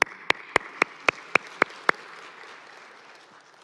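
Church congregation clapping together in unison, eight sharp synchronized claps at an even quick pace, then a softer, scattered patter that fades out.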